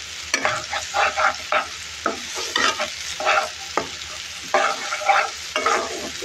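Onion-garlic paste with a little ginger sautéing in a pan for koi fish bhuna, with loud close sizzling and repeated rhythmic scrapes of a spoon stirring throughout.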